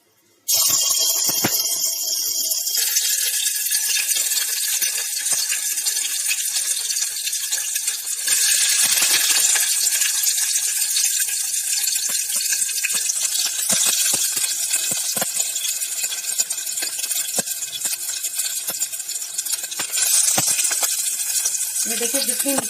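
Squeezed soya chunks dropped into hot mustard oil for a potato and soya chunk curd curry, giving a loud, steady broadband sizzle with scattered crackles and stirring clatter that runs unbroken for the whole stretch.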